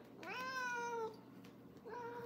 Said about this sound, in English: so cute meowing like that, Rocket.